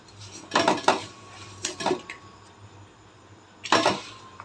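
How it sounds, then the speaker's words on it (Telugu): Metal utensils clatter and scrape against a pot as jaggery is added and broken up for coconut payasam, several sharp close knocks in uneven bursts with quiet pauses between. "ఇప్పుడు ఇందులోకి నేను బెల్లం యాడ్ చేసుకుంటున్నా బాగా ఇట్లా కొట్టుకుంటున్నాను"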